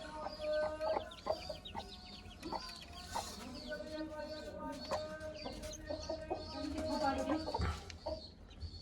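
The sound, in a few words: hen with newly hatched chicks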